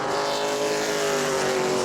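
A Pro Late Model race car, number 93, running a qualifying lap at New Smyrna Speedway, its engine a loud sustained high-pitched drone with a steady pitch throughout, close and continuous with no talk over it.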